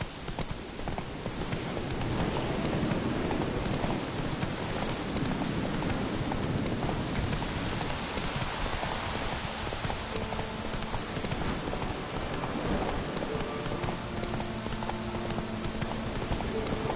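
Roach, the horse in The Witcher 3, clip-clops steadily through heavy rain, a hoofbeat rhythm running on without a break beneath a constant wash of downpour and faint distant rumbles.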